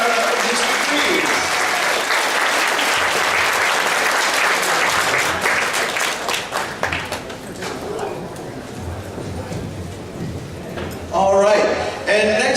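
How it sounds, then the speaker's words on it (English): An audience at a fall anime convention costume contest applauds a pair of contestants dressed as Ivy and Mr. Freeze, dense clapping and cheering loud at first, thinning out, then a brief louder burst near the end. "Big round of applause for Ivy and Mr. Freeze."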